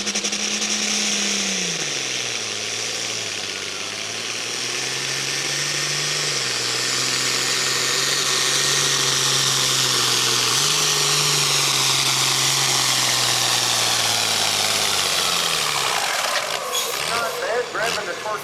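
A pulling tractor engine roars at full power during a truck and tractor pull, a loud, sustained droning howl whose pitch drops and steps through gear changes before cutting off near the end, with a crowd-noise wash behind.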